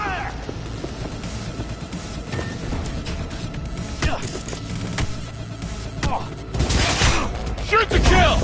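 Gunfire crackles through a dense, continuous firefight in Cyberpunk 2077, with shots, clanks and crashes packed under a steady roar and shouting voices in the mix.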